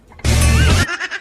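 A single goat bleats once, loud and close, a sustained wavering cry lasting about half a second, followed by faint background noise.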